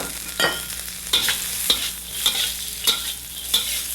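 Carrots stir-fry in very hot sesame oil with asafoetida in a wok, a steady sizzle broken by a regular series of sharp scraping tosses of the spatula about every half second, close by and without talk.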